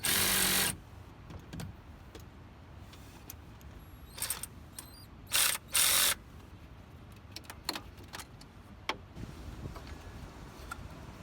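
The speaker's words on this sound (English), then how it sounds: "Let's go ahead and get these hose clamps tightened up." Hose clamps being tightened on a Jeep coolant hose, heard as intermittent ticks and clicks from the tool, with a few short louder bursts between quieter stretches.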